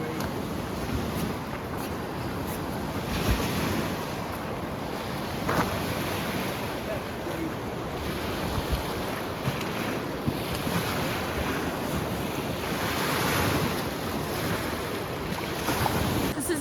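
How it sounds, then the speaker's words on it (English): Waves on the New River in winter, a steady broadband wash of churning water mixed with gusty wind noise on the microphone, with no clear talk. "River waves."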